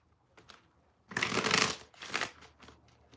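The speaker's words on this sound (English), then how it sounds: "I'm going to do some good shuffles." A deck of tarot cards being shuffled by hand, one loud riffle lasting about a second, then a shorter follow-up burst and faint card handling before and after.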